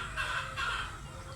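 Pet chickens, hens and roosters kept together, clucking in a steady overlapping chatter at close range, with no crow standing out clearly.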